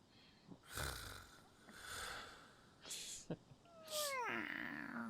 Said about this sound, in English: I guess I'm the only one who's not asleep because of all the snoring.